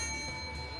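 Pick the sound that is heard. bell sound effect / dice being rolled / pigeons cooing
bell sound effect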